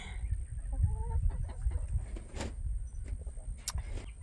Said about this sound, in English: So I'm out here with the chickens